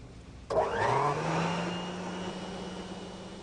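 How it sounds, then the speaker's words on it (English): A commercial vacuum cleaner switches on abruptly, its motor winding up to a steady loud whine and roar that continues without pause. "In a vacuum test, air is removed by a commercial vacuum cleaner."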